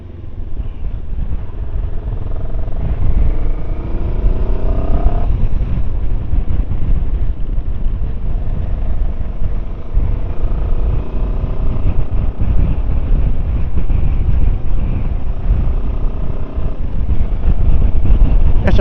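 A Rieju Xplora 707 adventure motorcycle ridden through open country in Spain, its engine droning steadily with rising and falling revs under heavy wind buffeting, close and loud throughout.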